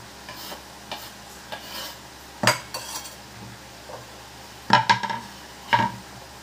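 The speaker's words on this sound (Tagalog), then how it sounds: "May bawang na tayo guys. Ang gisa." Garlic sautéing in a pan while ginataang suso is cooked, with scattered clinks and scrapes of a utensil against cookware standing out over a low background, loudest in a few sharp knocks near the end.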